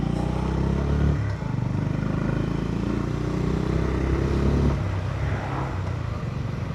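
A Honda GB350 single-cylinder motorcycle engine thumps steadily while riding, close and loud, with a brief dip around a gear change and rumbling wind noise throughout.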